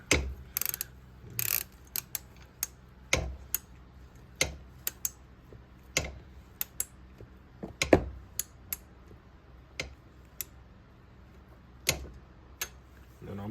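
Torque wrench ratchet tightening the cylinder bolts on a Yamaha Jog scooter with a Stage 6 70cc big bore kit, giving sharp, close clicks in irregular bursts and single ticks separated by pauses.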